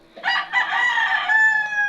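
A Minecraft chicken makes a rooster-like crow once, a loud, drawn-out cock-a-doodle-doo with a clear rising and sustained tone, close by.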